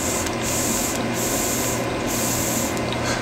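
Air drawn through a vape atomizer in repeated pulls, each a steady hissing rush broken by short pauses, about four draws in close succession.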